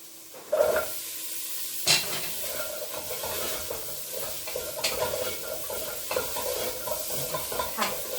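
Carrots are added to onions already frying in a pot for an Irish beef stew, with a steady sizzle under stirring scrapes and occasional clattering knocks of the spoon against the pot.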